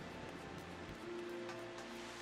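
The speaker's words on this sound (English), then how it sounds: "it's raining. I love the sound of rain." Steady rain in the game Final Fantasy XIV forms a continuous hiss of falling drops, faint and even throughout, with a low ambient hum beneath and no talking.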